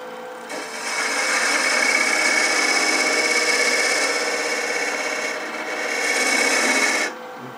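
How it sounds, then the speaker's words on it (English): A beading and parting tool cutting into wood spinning on a lathe, a steady raspy scraping whine that starts abruptly, holds for about six seconds with a brief dip, then stops cleanly. "I'm going to come in there with that beading and parting tool and create that fillet"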